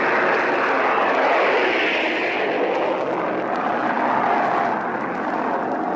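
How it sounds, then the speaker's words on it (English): Low-flying warplanes pass overhead during the D-Day landings in 1944, a loud, steady broadband aircraft engine roar that holds for the whole span with no voices over it. "Now planes are going overhead."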